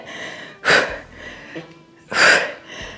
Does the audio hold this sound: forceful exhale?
yes